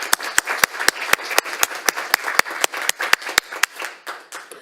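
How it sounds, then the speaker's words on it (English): Staff members clap together at a school district board meeting, a steady run of sharp, closely spaced claps from a small group nearby, fading toward the end. "Give yourselves a round of applause."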